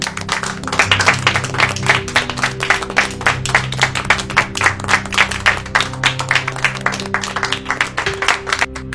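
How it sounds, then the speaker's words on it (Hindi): Steady, energetic clapping from a group fills the whole stretch, a dense patter of hands with a faint tonal hum beneath and no speech on top. "आइए हम सब मिलकर मिस ब्रुक्स के लिए जोरदार तालियां बजाते हैं"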